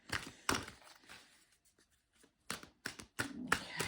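Large cards shuffled by hand, soft papery riffles and slaps in irregular bursts with a quiet pause in the middle, close and faint, no talking.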